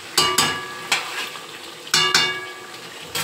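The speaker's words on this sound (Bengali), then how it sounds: "ভালো করে কষিয়ে নিই লবণ দিয়ে, মশলা দিয়ে" Chicken being fried and stirred with salt and spices in a pan, an ongoing sizzle broken by rhythmic spatula scrapes and metallic clinks, close and clear.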